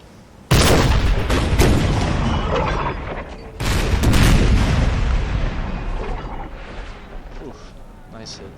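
Napoleon cannons and howitzers fire in a Civil War battle game as two heavy, loud booms hit at the start and midway, each trailing into long rumbling decay under a noisy battlefield bed.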